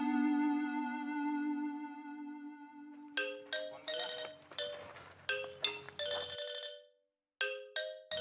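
A phone ringtone plays close by: a sustained tone, then a bright repeating melody of plucked chiming notes, with a brief gap before it resumes.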